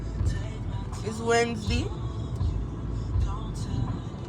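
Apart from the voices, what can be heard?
Mercedes CLA 250 car driving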